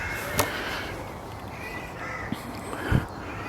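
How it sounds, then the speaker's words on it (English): A few crow caws ring out at a distance over steady outdoor background noise in St Oswald's Church graveyard, Brereton, spaced irregularly. "You can hear all these crows,"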